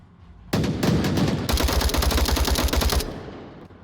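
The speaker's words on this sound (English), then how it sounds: "Trip and Rich still exchanging fire here across the map" An exchange of gunfire in the VR shooter Onward opens with a loud close burst, then gives way to a sustained rattle of rapid automatic fire that cuts off abruptly, leaving a faint tail.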